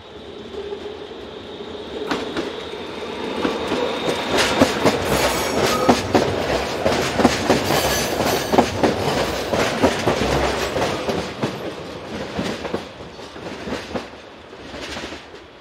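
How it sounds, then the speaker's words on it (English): A BLS Class 525 electric multiple unit departs a station on an S-Bahn service, its rising hum and steady clickety-clack of wheels over rail joints building close by, then easing as it draws away, with no voices. "this BLS Class 525 departs with this S-Bahn service to Freiburg"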